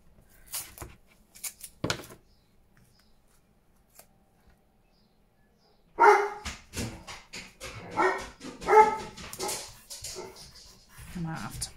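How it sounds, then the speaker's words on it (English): A dog barks a few times in the distance, with quiet gaps, and then people start talking close by. "Can I have another dog barking outside?"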